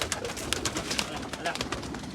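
Pigeons cooing and fluttering close by, soft repeated calls and wing flaps mixed with voices talking in the background.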